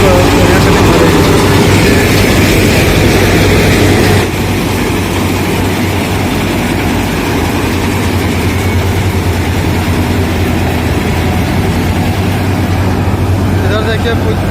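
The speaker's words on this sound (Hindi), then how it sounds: "मशीन चल रही है, कटिंग हो रही है।" Loud, continuous rumble of a combine harvester cutting paddy nearby, a deep engine drone with grinding clatter that shifts slightly in tone partway through.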